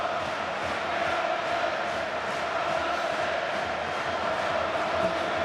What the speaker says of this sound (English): And the Wigan supporters with a try to cheer at last.